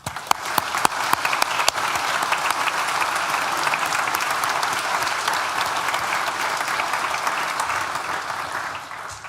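A large crowd at a university graduation ceremony claps in loud, sustained applause. It starts with a few sharp claps and quickly builds into a steady roar that holds to the end.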